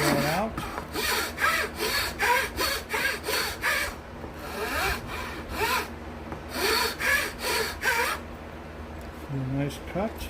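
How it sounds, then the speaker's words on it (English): A fine metal file is drawn across wood to smooth the neck slot of a cigar box guitar, giving rhythmic rasping strokes in close, steady bursts with a brief pause midway and talk faintly underneath. "And then I'll use a finer file just to smooth"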